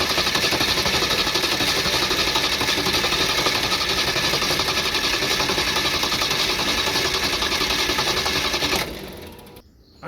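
A car engine with its distributor disconnected cranks without starting, driven by a compact Lokitholr JP400 jump starter. It makes a loud, fast, steady rhythmic chugging for about nine seconds, then cuts off.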